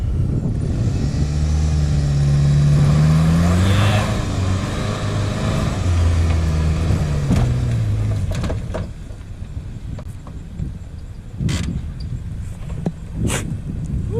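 A Ford Ranger pickup truck revs hard and pulls away: a loud, roaring engine with a rising and falling whine, then quieter rattles and knocks as it drives out.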